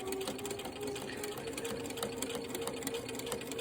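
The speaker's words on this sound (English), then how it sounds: "So let's sew a little bit here so you can see how I'm lining this up." A sewing machine stitches binding onto a quilt, its motor running in a steady, continuous mechanical whir with fast needle clatter throughout.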